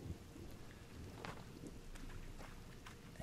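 Steady rain falling in the survival game The Forest, a faint, continuous hiss of drops with occasional rumbles, no voices.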